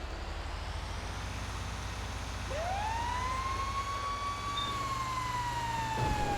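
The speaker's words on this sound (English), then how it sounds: "Turn my sirens on to warn everybody I'm coming through." An emergency vehicle siren in GTA V Online winds up and holds a rising, wavering wail over a low engine rumble, sounding fairly close and steady.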